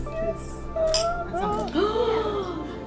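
Glasses clink in a wedding toast, a few bright, light taps heard under voices talking close by.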